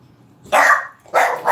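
Dogs barking at a mailman: two loud, close barks about half a second long with a short pause between them, no talk.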